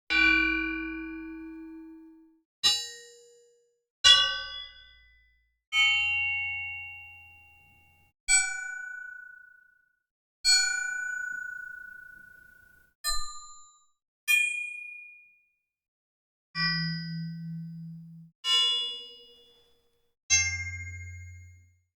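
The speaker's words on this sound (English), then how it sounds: "And here's more of the resonant sounds." Resonant metal strikes meant as raw material for blade weapon sound design: about a dozen separate clean dings and clangs, each ringing out and decaying slowly before the next, with shifting pitches and silence between hits.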